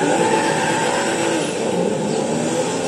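A car engine in GTA 5 rumbles and revs steadily while the vehicle is being parked, a continuous close motor drone with no speech.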